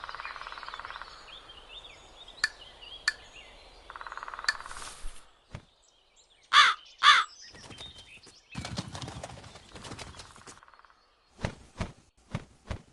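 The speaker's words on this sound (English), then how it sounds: "Where is the crow?" Crow calling on a farm in a children's animal lesson, a few sharp harsh caws in a short cluster amid scattered clicks and rustling, fairly close with quiet gaps between.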